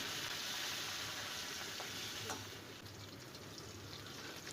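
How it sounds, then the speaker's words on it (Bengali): Rohu fish coated in salt and turmeric frying in oil gives a soft, even sizzle that hisses continuously and stays fairly faint throughout. "মাছগুলো তেলের মধ্যে দিয়ে মাছগুলো ভেজে নিচ্ছি"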